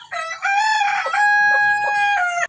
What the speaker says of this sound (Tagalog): Ito nga pala yung mga manok ko guys at pinapakain ko na muna ng bigas.